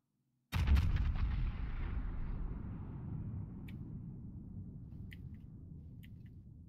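Heavy gunfire in a video game opens with a sudden loud blast and a few quick shots, then booms on in a long rumbling roar that slowly fades, with faint high clicks after, and no talk.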